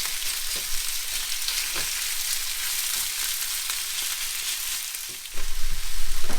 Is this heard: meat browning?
yes